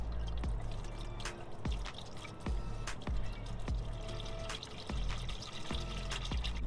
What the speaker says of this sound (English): I'm gonna let the oil drain for 5 to 10 minutes.